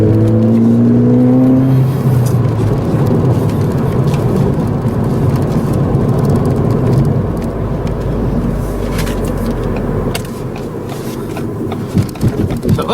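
A 2016 Ford Fiesta ST engine roars as it accelerates, a deep sustained rumble with rising revs and occasional whine, loud and close throughout.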